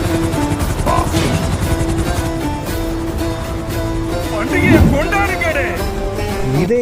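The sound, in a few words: helicopter flying in video game GTA V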